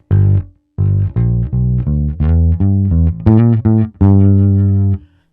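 A blues bass fill played on bass guitar: a short run of separate plucked notes, about nine in a row, ending on a longer held note, loud and close with no talking.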